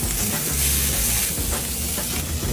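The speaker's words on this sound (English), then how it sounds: "So we're gonna sear the bun" A steady, loud sizzle as a burger bun sears on a hot pan, a close continuous hiss with no pauses.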